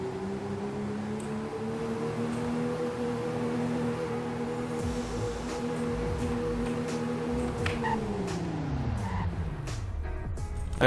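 An engine drones steadily in Roblox Greenville for several seconds, then a car brakes hard, its pitch sliding down as the tires skid loudly to a stop, with scattered clicks and game noise around it.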